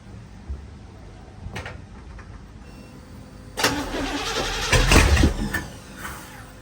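A small-block Chevy V8 with a freshly primed carburetor cranks on its first start attempt: a few seconds of quiet shuffling, then a loud, rough burst of starter and engine churning that fades without settling into an idle.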